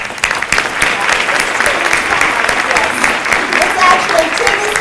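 Audience at an event claps together in dense, continuous applause, loud and close, sustained evenly for several seconds with no voices standing out above it.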